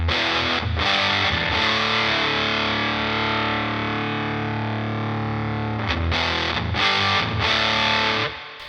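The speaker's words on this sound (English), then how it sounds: "Sounds kind of like maybe a Russian Muff, but there's a very unique mid-range coming off it." Electric guitar played through a Sonicake Fazy Sandwich fuzz pedal gives a thick, saturated, sustained chord with a strong mid-range, with a few re-struck chords at the start and end.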